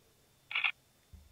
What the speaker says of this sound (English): You can hear the camera shutter sound